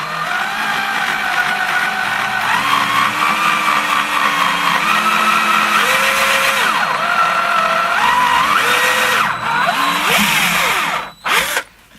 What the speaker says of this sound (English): And we're going to drill our hole.